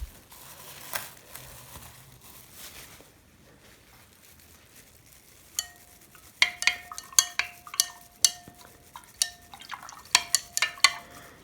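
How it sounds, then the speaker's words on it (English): A spoon stirs sodium carbonate into hard water in a glass, first with soft swishing and then with a quick run of bright, ringing clinks against the glass, loud and close, with no talk. "you have to stir it"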